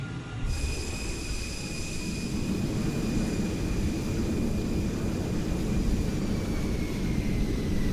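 An F-14 Tomcat's jet engines roar steadily and loudly on the takeoff roll in Microsoft Flight Simulator, a dense broadband rush with a high whine above it, and no one talks.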